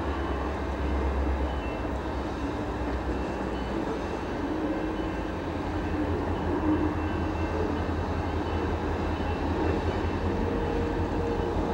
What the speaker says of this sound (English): CN 594 eastbound to Capreol via the junction.